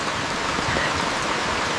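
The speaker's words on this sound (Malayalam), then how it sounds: "നല്ല മഴ വന്നു ഗൈസ്" Heavy rain falls at Bekal Fort in Kerala, a dense, steady hiss of downpour filling the whole moment with no pauses, fairly close and unaccompanied by voices.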